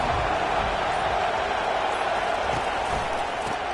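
A stadium crowd roars for the defense at a football game, a dense, steady wall of cheering and noise that holds level throughout with no break.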